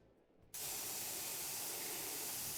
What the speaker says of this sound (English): the spray gun has certainly made it faster to spray paint the vehicles